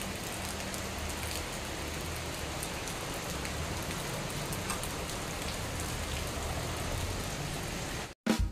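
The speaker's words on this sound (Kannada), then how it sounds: "ಮಳೆ ಬರ್ತಾನೇ ಇದೆ." Steady rain falls in a dense, even hiss of drops that runs unbroken for about eight seconds before cutting off abruptly.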